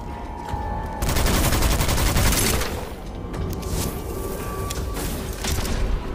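An elite enemy fires a loud, dense volley of gunfire in the Witchfire video game, a sustained burst of overlapping shots followed by scattered sharper blasts and ringing tones.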